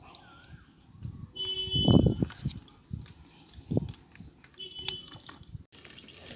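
Fermented rice water is strained through a cloth or strainer, and liquid drips and splashes down in a few louder bursts over quiet, soft trickling.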